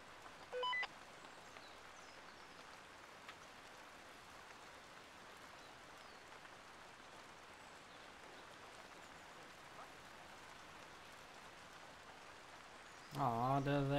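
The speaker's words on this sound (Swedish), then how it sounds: "Ja, det regnar." Soft, steady rainfall in the video game Arma 3 patters quietly throughout, with a faint bird call near the start and a brief burst of voices or sound at the end.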